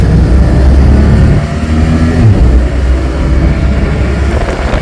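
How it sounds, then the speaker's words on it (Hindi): A sports car accelerates away as a loud, deep engine rumble fills the space, swelling and dipping over several seconds before settling into a steady roar. "और अब गाड़ी ने स्पीड लेनी शुरू कर दी है और ये गई।"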